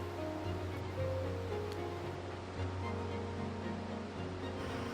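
A river flowing along the bottom of a gorge in the Carpathian Mountains of Romania, a steady, distant rushing wash of water that continues evenly with no talk.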